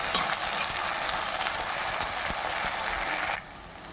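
Turkey berries (sundakkai) sautéing in hot oil in a pan, a steady close sizzle and crackle running continuously and dropping slightly quieter near the end, with no voices.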